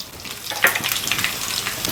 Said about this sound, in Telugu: ఆయిల్ మరిగింది కదండి, ఇందులో ఎల్లుల్లిపాయలు,